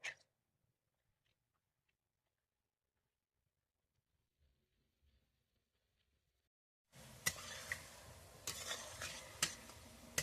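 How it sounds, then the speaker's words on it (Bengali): Jackfruit fritters (echorer bora) frying in oil and being stirred, near silence at first, then a sudden loud dense sizzle with sharp utensil scrapes and clicks for the final few seconds. "তো দেখুন আমি চারদিক নেড়ে নেড়ে বড়াগুলোকে ভেজে নিয়েছি।"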